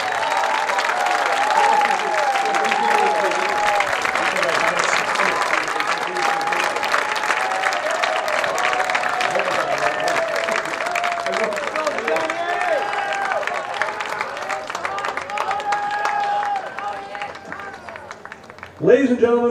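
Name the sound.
applause for award winners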